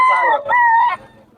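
A rooster crows loudly and close by, one strained call broken into two drawn-out parts.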